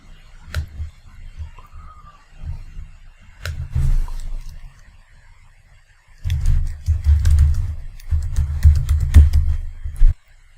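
Rapid typing on a computer keyboard, close up, with clusters of crisp key clicks in uneven bursts separated by short pauses and no talking.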